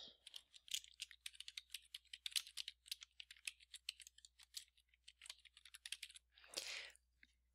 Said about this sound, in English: First, we'll type in the title.